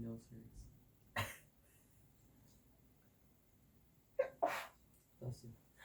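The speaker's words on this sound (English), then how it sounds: "Thank you for sneezing all over my arm." Sharp, explosive human sneezes during a sneezing challenge: one burst early and a louder pair near the end, close to the listener, with faint breathy sounds and voices between them.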